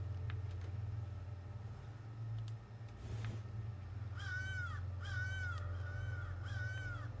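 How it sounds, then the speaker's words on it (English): A crow in the video game Secret Neighbor caws four times in a row, loud and harsh, over a steady low game drone. "crow is so annoying. Someone fucking shoot that thing."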